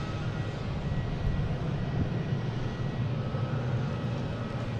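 American Airlines Airbus A319 departing Boston Logan, bound for Philadelphia: a steady, broad engine roar with a low rumble, constant in level throughout without a clear rise or fade.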